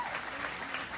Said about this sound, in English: all of these standing ovations and applause